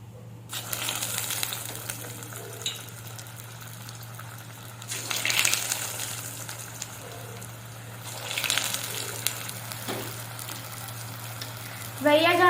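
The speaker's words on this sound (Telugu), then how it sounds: "ఇలా బాల్స్ని ఒక్కొక్కటిగా ఆయిల్లో వేసేయాలన్నమాట." Cheese potato balls drop into hot oil, bursting into loud sizzling frying swells that rise and settle in waves, close by, with a steady hum underneath.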